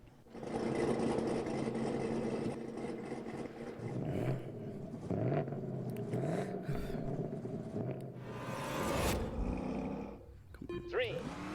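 A car engine in The Grand Tour Game idles and revs steadily, held loud and close before a launch, with a drawn-out droning tone that surges in places and drops away near the end.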